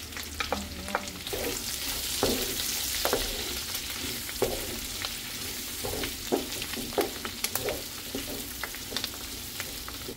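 Onion sizzles in a hot pan for binagoongan pork, a continuous frying hiss punctuated by frequent scraping and tapping stir strokes, close and fairly loud, no talking.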